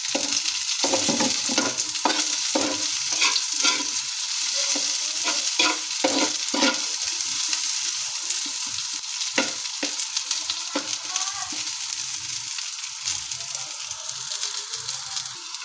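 Onions sizzle steadily in a hot pan, with repeated scraping and stirring strokes over a continuous frying hiss, close and fairly loud, with no voices.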